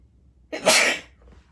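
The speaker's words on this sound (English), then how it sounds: "Excuse me, I gotta sneeze." A single sharp sneeze bursts out close by, a quick intake then an explosive hiss, followed by a faint breath.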